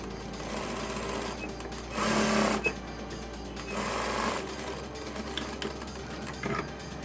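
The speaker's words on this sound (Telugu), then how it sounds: "ఈ కుట్టు దగ్గర నుంచి మళ్ళీ ఇంకో కినారి వేసేసుకోవాలి." A sewing machine runs steadily while stitching a border strip onto the pocket of a Punjabi dress, with a few louder, faster bursts of stitching between quieter runs, close up and alone.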